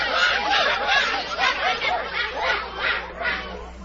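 Startled birds squawking and honking in a rapid series of overlapping calls, loud and close, sounding as a flock takes fright and flies off in an animated film.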